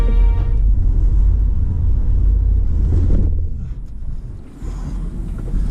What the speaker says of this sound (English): I decided to cross this stream without really knowing how deep it was